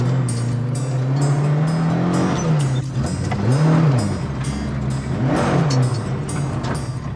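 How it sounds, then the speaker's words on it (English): Ford Escort Mark II rally car engine revving hard from close by, a loud sustained drone with repeated sharp rises and drops in pitch as the throttle is blipped. "straight in his Mark II Escort rally car"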